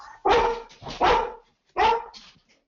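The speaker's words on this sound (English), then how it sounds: "That's not my dog." A dog barks three times close by, two quick loud barks followed by a pause and a third bark, with nothing else heard around them.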